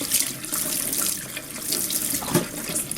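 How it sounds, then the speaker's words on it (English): A tap runs hot water into a sink bowl for rinsing dyed fleece, in a steady, close splashing stream that holds constant throughout. "I'm going to run another bowl of water"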